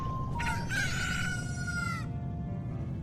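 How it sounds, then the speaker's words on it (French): Rooster crowing amid chickens in the Zelda Majora's Mask video game, one long crow rising and holding over a steady background hum of game ambience. "Voilà, des belles poules."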